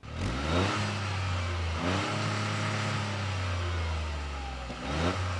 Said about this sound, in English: this exhaust sound does not sound very good from the outside